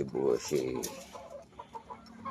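Backyard chickens, fighting-cock stock, clucking as feed is put out for them, a few soft close clucks and short calls over light movement and scattered feed noises.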